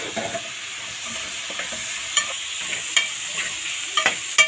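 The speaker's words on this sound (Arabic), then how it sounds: "كده حمرنا الفراخ ورشينا عليها ملح وفلفل اسمر، وهنا بنقلب في البصله كده." Chicken and onion frying in ghee for a potato and chicken tray bake, a steady sizzle broken by scraping and clattering as a utensil stirs the pan, close and without talk.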